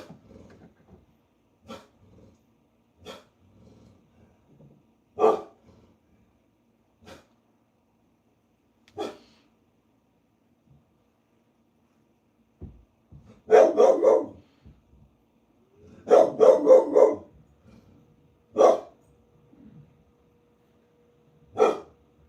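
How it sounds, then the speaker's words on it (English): A dog barks protectively indoors in scattered single barks and short clustered volleys, fairly close, with quiet gaps between outbursts. "Don't mind my dog. She's protecting us."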